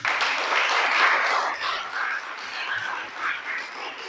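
An audience bursts into clapping and cheering in a church gathering, a loud, dense wave of applause that slowly thins and trails off over several seconds.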